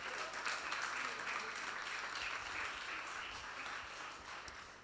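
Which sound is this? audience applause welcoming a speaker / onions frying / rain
audience applause welcoming a speaker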